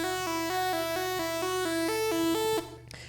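Monophonic synth lead patch built in NI Massive, playing a steady run of evenly spaced bright, buzzy, harmonically rich notes in a repeating rhythmic pattern, loud and upfront, cutting off sharply near the end with a brief tail.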